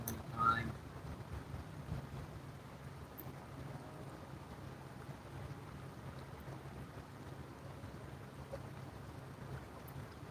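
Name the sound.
motorboat running full throttle toward the shoreline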